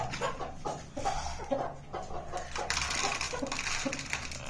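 Hens clucking softly and pecking at leftover feed nearby, scattered low clucks and small pecking sounds over faint background noise.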